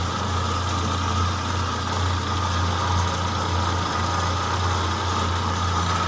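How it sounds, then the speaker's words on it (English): A Doall C-916-S swivel bandsaw cutting through a piece of tube, its motor humming steadily with a constant high whine and faint vibration, no voices over it. "just cutting a piece of tube with the blade that's in there"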